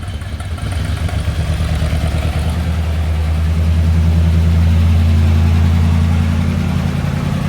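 The engine of a salt-water-flooded 1972 Corvette, a 200-horsepower car hit by a hurricane flood, runs at a steady low idle that swells slightly louder after starting, with no voices.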